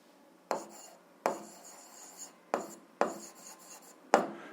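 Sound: writing on paper while solving a math problem

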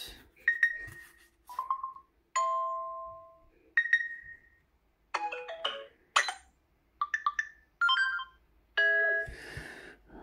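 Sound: phone notification sounds

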